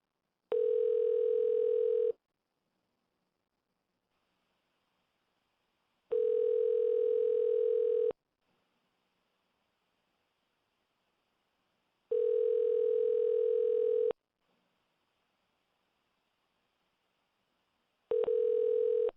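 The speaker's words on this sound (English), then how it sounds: "Let's see if we can get Charles on the line." A steady telephone ringback tone sounds in four evenly spaced bursts of about two seconds each, with silent gaps of about four seconds between them, while a guest is being called on a live radio show.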